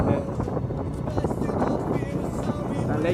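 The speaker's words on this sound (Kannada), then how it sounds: "ತಂಪಾದ ಗಾಳಿ ಬೀಸ್ತೈತೆ." Cool wind rushes steadily across the microphone during a motorbike ride through the countryside, a continuous broadband roar with no talk.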